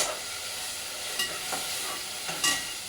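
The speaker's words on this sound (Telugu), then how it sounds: "ఆనియన్స్ మిర్చి ఫ్రై చేసేస్తున్నారు" Onions and green chillies fry in a pan for a home chicken curry, giving a steady close sizzle and hiss with occasional stirring scrapes.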